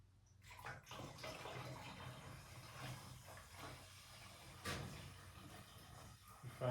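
Distilled water poured from a container, a faint continuous splashing trickle with hissy texture that swells briefly midway and again at the end, with no talking.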